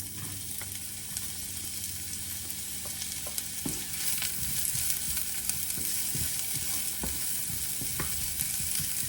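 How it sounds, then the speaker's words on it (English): Onions fry in a pan while a vegetarian meatball mixture is prepared, giving a steady close sizzle with scattered crackles and occasional stirring scrapes throughout, with no voices. "So to this pan, we are going to add the onions."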